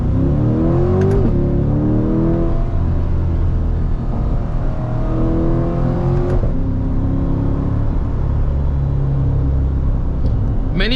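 Corvette C8 Dubai Edition engine rising and falling through gear changes, with loud, close harmonic revving sweeps, sharp rev blips on the downshifts and a steady rumble under it.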